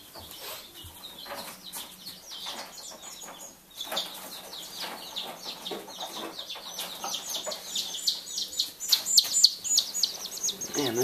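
Baby Bantam chicks, one only a few days old, cheep in rapid, high-pitched peeps that grow busier and louder toward the end, close by.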